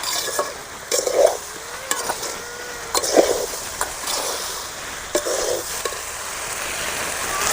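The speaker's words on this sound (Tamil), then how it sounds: "நல்லா முருங்கைக்காய் கொட்டி நல்லா பெரட்டி எடுத்துக்கணும்" Drumsticks (moringa pods) fry in a pan with a low, steady sizzle while a spoon stirs and scrapes them in repeated short bursts, close by and without speech.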